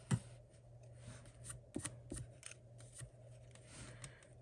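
Scissors snip paper for a Christmas tree card, a few short crisp cuts close up and quiet, with soft paper handling between them.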